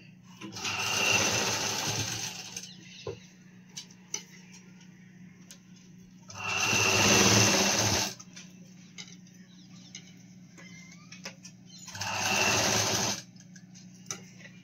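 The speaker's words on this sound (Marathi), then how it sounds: "त्याला आता गळ्याला पट्टी लावणं चालू आहे" A sewing machine stitches a neck binding strip onto a blouse in three separate bursts of loud, rapid whirring, with quiet ticking and a low steady hum in the pauses between runs.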